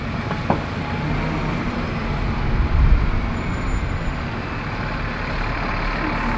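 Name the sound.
school bus approaching in Lancaster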